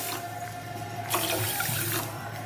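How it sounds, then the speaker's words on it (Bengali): Water splashes and pours into a pan of sugar for syrup, a short gush that swells in the middle and then continues steadily over a low background hum. "দিয়ে দিচ্ছি এক কাপ চিনি আর দিয়ে দিচ্ছি দু কাপ জল"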